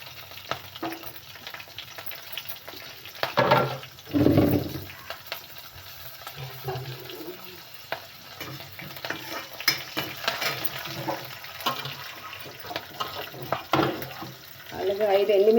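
Cut green chilli pieces frying in a pan with stirring, a steady close sizzle broken by louder bursts of scraping and spluttering, with a voice speaking now and then.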